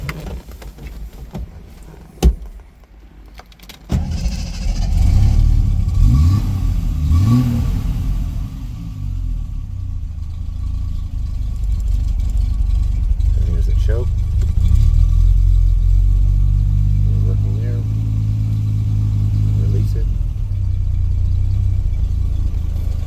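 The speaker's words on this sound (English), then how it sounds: "I'll fire it up and get a listen at the engine" A 1973 Triumph TR6 engine cranks and catches after a few clicks, then settles into a steady, rumbling idle with some uneven surging, close and loud from start to finish.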